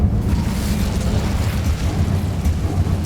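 Incendio fire spell blast in Hogwarts Legacy, a loud, close, roaring burst of flame with heavy low rumble, sustained and dense for a few seconds, no voices.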